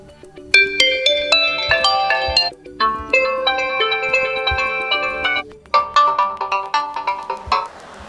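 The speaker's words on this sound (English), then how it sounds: "tap on ringtone and select new system ringtone" A bright electronic alarm ringtone melody from a Realme 8i phone plays several repeating phrases, loud and close, with short pauses between them.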